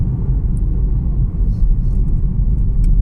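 A car drives through city streets, heard from inside as a loud, steady low rumble of engine and road noise with no break.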